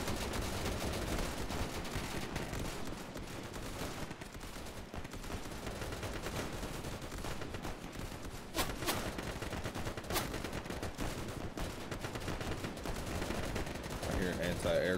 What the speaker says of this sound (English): I hear an anti-aircraft gun.